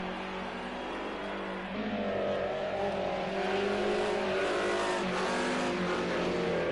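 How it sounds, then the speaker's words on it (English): A race car drifts in Project Cars 2, Group A racing, its engine droning steadily with rising revs and a faint tire squeal, continuous and close throughout. "Tim drifting the car"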